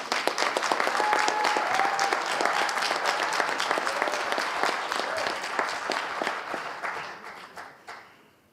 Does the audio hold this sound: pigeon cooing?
no